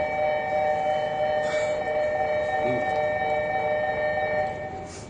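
A subway train pulling into a station platform, with a steady rumble, sustained tonal hum and a brief horn-like tone partway through, close and fairly loud, fading slightly at the end.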